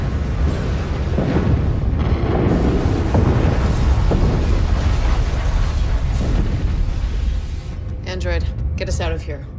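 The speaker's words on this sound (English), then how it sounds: "I'm picking up explosions on the orbiting Ashita cruisers." Deep rumbling booms and bursts roll continuously, loud and dense, with a voice speaking briefly near the end.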